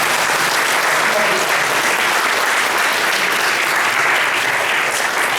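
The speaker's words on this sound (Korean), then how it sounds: "다시 한번 발표해주신 권성호 교수님께 큰 박수" An audience at a baseball and sports psychology presentation gives sustained, even applause for a professor, loud and continuous throughout with no gaps.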